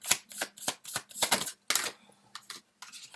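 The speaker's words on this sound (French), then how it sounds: "Alors, on va sortir deux autres cartes." Tarot cards riffled and shuffled close up, a quick series of crisp papery bursts in irregular rhythm, then a few lighter flicks as cards are drawn, quiet and without talk.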